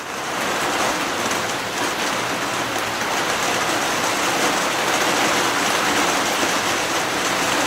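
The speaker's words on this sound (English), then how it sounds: "This is a good hard rain." Hard summer rain pours steadily outdoors, a dense, continuous hiss of drops on surfaces that holds at one loud level throughout with no voices.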